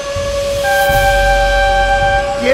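A train rushes past in BeamNG.Drive, sounding a loud sustained multi-tone horn over a heavy low rumble of rolling wheels, close and steady for the whole stretch.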